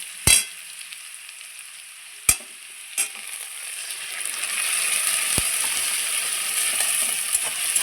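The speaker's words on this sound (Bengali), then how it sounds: "আমি এখন বেটে রাখা মশলাগুলো দিয়ে দেবো" Squash and potatoes fried in a pan as ground spice paste goes in, starting with a few sharp isolated clacks of a utensil, then a steady hissing sizzle that grows and holds to the end.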